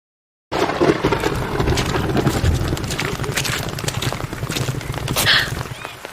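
Heavy rain with rolling thunder for a horror story set in a palace near Udaipur at dusk, loud and dense after a short silence, with a steady downpour and deep rumbling throughout.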